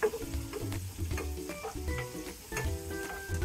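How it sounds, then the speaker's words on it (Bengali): About 400 grams of fish fry in oil in a pan over medium heat, giving a steady, close sizzle that runs the whole time alongside faint tonal sounds in the background. "মাছগুলোকে 2 মিনিটের মতো আমি ভেজে নেব।"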